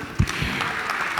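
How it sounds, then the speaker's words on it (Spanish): Brief burst of audience applause at a church marriage conference, greeting a couple from Paraguay married 34 years; a short round of clapping, moderately loud and fading quickly. "le damos un aplauso"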